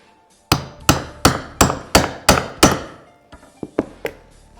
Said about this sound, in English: You place this chisel right in that rounded edge and you strike it with the hammer.